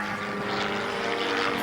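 Propeller aircraft of an aerobatic display team at the RAF Cosford airshow hum overhead during stall turns, a steady droning engine tone with a slowly rising pitch and volume over the brief moment.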